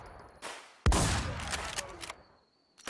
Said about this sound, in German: Die Shotgun hört sich einfach so nice an.